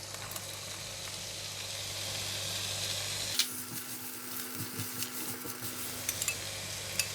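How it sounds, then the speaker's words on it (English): Yellow onion drops into a hot wok already holding carrot and white radish, and a steady sizzle rises, with a few soft clinks of a utensil stirring the vegetables. "Going to put in the yellow onion."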